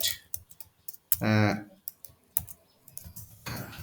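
Keys tapped on a computer keyboard while typing search words into homeopathy software, a run of quick clicks with brief pauses between them and a tonal beep partway through.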